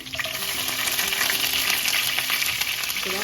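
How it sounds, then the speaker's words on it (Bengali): Garlic hits hot oil in a pan and sizzles loudly and continuously at close range, a dense crackling hiss with no talk over it. "আমি এদিকে রসুন দিলাম"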